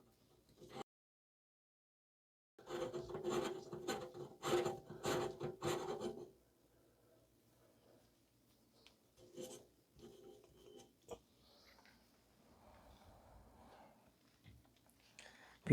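Channel lock pliers gripping and loosening a nut on a leaking kitchen sink pipe, a close rasping, ratcheting scrape in a cluster of strokes, then sparse faint clicks and rubbing amid long quiet gaps.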